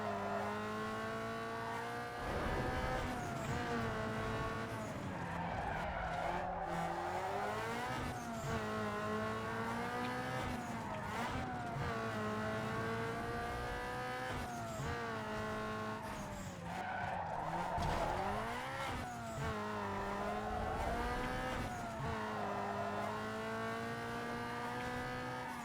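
A car in Need for Speed: Underground 2 slides through repeated drifts, its tires squealing in long wavering bursts over a revving engine, with no voices.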